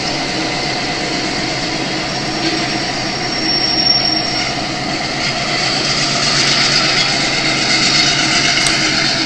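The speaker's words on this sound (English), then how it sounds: "Coupled onto the train, it then leaves and continues on its way." A model train pulls away after being coupled, giving a steady, fairly loud mechanical running hum with a faint high squeal from the wheels and no voices.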